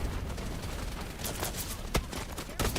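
Dense gunfire from the video game Wild Assault, a steady fusillade of shots with sharper bursts near the end, loud and continuous with no talking.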